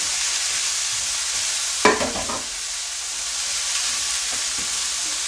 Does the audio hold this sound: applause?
no